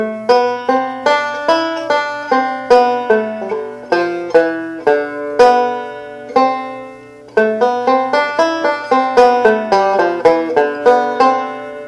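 Bright plucked banjo notes ring out one after another in a steady ascending run of C licks with added chromatic notes, each note decaying quickly, played solo and close.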